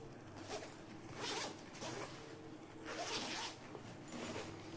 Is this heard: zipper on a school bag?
yes